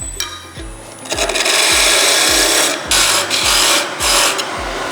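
A wood lathe parting off a turned wooden carving mallet, a rasping scrape of the tool against spinning wood with a rhythmic repeating thump about every half second and a steady motor hum throughout.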